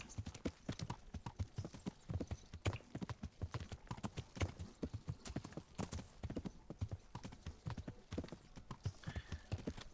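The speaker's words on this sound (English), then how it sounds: "Let's actually horse ride there." A horse's hooves clip-clop in a brisk, steady trot along a road in the video game Kingdom Come: Deliverance, the clopping close and continuous throughout.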